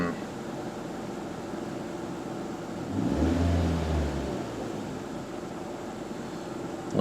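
A 2006 Nissan engine cranks and catches after a cam position sensor replacement, a brief rising rev burst near the middle that settles back into a quiet idle under a steady background hum.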